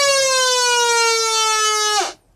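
A fire alarm valve siren triggered by shorting the pressure switch contacts wails as a steady, loud electronic tone rich in overtones, then winds down and cuts off abruptly near the end.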